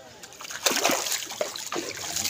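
Water splashes and sloshes at a village pond during washing, with several bursts of splashing close by and voices talking over it.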